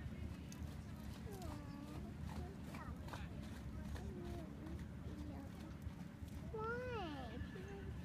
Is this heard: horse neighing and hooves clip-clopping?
yes